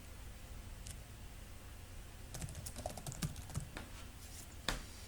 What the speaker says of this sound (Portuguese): Eu vou pedir o atalho Ctrl L e vou digitar aqui contrapiso